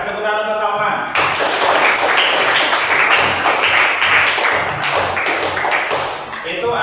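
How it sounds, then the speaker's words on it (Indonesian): A classroom group bursts into loud, close clapping for a student named Salman after a short pause, the rapid hand claps sustaining to the end with voices mixed in. "Kasih tepuk tangan untuk Salman."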